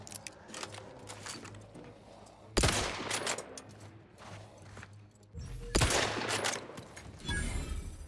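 Gunfire in the video game The Outer Worlds 2: loud, broadband bursts of shooting erupt twice, each followed by a crackling tail, over a steady low game hum.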